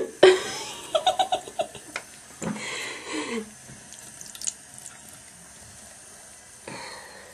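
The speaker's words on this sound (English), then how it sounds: "Where is that water coming from, huh?" A water tap runs into a sink, splashing and gurgling in short bursts between stretches of quiet. Giggles and laughter come and go over the flow.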